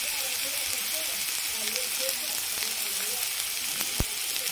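Ginger garlic paste fries with onions in a pan, giving a loud, steady, close sizzle and hiss that carries on unbroken, with a single soft knock near the end.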